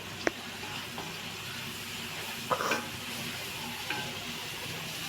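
Curry leaves dropped into hot oil give a steady frying sizzle, with a few sharp clinks and scrapes of a utensil against the pan scattered through.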